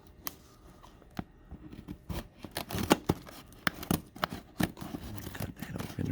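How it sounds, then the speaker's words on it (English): Scissors cut open a package close up, giving sharp, irregular snips and crinkly plastic tearing that come in quick bursts with brief pauses between them. "Cut that open right there."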